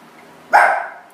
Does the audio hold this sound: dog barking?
yes